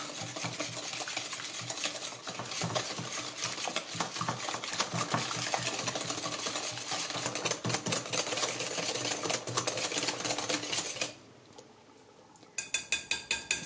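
Two large eggs and white sugar are beaten in a bowl for chocolate chip zucchini bread, giving a fast, steady run of close clicking whisk strokes against the bowl, a short pause, then another quick burst of beating.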